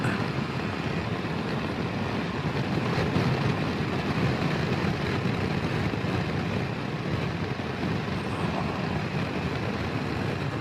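A Triumph Tiger 1200 GT Pro motorcycle being ridden, a steady, continuous rush of engine and wind noise filling the whole stretch at an even level, with no talk.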